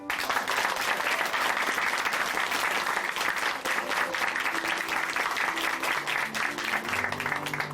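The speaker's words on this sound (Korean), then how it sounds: "다시 한번 박수 부탁드립니다" A church congregation clapping steadily together, a dense sustained applause that fills the room throughout, with no pause.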